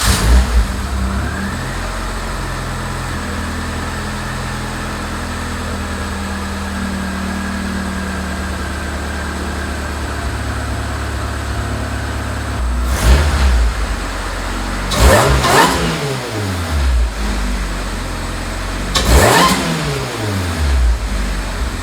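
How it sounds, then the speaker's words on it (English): A supercharged car engine with heat-wrapped intake and headers starts and settles into a steady idle, then gets three quick sharp revs that rise and fall fast near the end, close and loud with no talk. "I'm gonna start it up, hear what it sounds like, do a couple little revs for you"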